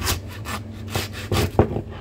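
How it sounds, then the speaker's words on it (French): Hand saw cutting through a veal rib bone on a butcher's bench, a series of short rasping back-and-forth strokes in an uneven rhythm, close and moderately loud with no talk. "Et là je reprends ma scie, je ne le fais pas à la feuille"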